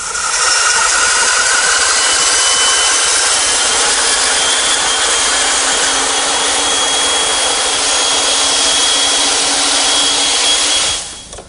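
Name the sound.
bandsaw cutting wood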